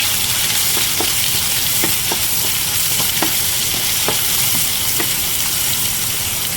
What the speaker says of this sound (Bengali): পেঁয়াজটাকে তেলের সাথে লাল লাল করে একটু ভাজা ভাজা করে নেব